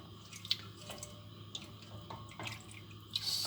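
Coffee poured through a strainer into a big cup, heard as soft intermittent trickles and drips that rise and fall, fairly faint, with no talking.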